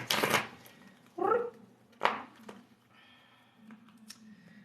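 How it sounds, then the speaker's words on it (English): A deck of cards is shuffled close up in short bursts of riffling and soft slaps, with a quieter patch of light handling noise afterwards. "Let me just get a nice shuffle on this deck before we start the read."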